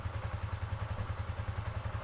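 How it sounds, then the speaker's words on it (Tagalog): A motorcycle engine runs at idle, a quick, even low chugging pulse that stays steady and moderately close with no voices. "i-on ko muna yung aking motor, tapos paanda rin"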